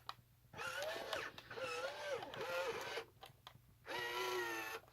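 A WowWee RS Media robot's torso motor whirs in three or four short strained bursts with brief pauses between, each a rising and falling mechanical whine up close and fairly quiet, no voices.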